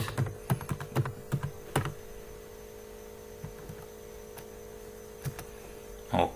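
Keys clatter on a computer keyboard in a quick burst of close typing, then a few scattered single keystrokes over a steady mains hum.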